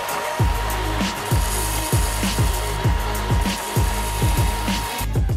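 Rhythmic rasping strokes of a saw or file flatten the bottom of a wooden potato masher, about a dozen steady back-and-forth passes, close and loud, with no talk.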